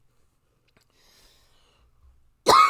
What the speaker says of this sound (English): If I cough right into the mic.